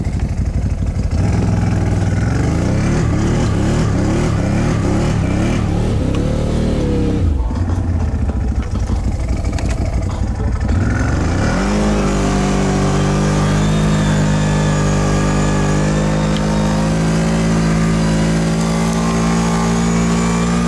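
A BRP off-road vehicle's engine revs loudly and close, rising and falling through acceleration, dropping out briefly, then settling into a steady strained drone while driving off-road through water.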